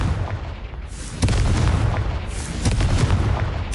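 A booming blast from the Confringo fire spell in Hogwarts Legacy, heavy and rumbling, followed by sustained crackling, popping detonations that stay loud across the whole stretch.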